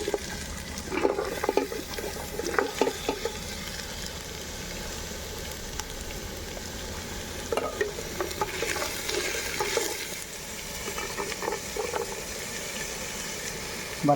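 Cut vegetables stirred and frying in oil in a pan for veg pulao, with a steady soft sizzle, intermittent spoon scrapes and stirring clatter, and no talking.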